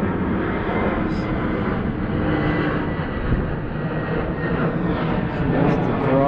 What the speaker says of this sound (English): Airplanes going through.